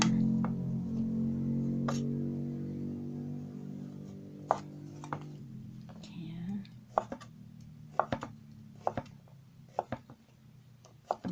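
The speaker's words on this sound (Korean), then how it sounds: "일단 적당한 크기로 썰어야 되기 때문에 이런 식으로 썰어줍니다." King oyster mushrooms being sliced with a knife on a board, a series of crisp, separate cuts growing more frequent in the second half, close and fairly quiet, after someone talks softly at the start.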